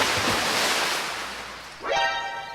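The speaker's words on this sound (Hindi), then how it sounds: "और सीधा जाकर पानी में गिरता है।" A young man falls into a river, a broad wash of water noise and waves with a sharper splash rising near the end, loud and close.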